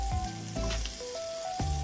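Mackerel frying in oil in a pan, a close crackling sizzle with sharp spits and pops, continuous and fairly loud with no voices.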